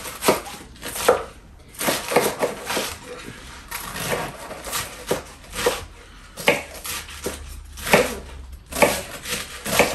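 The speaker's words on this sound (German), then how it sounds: "Und dann schneiden wir uns mal den Salat." A knife slices through a head of iceberg lettuce on a cutting board, with repeated crisp, crunchy cuts in an uneven rhythm, close and clear, with brief pauses between strokes.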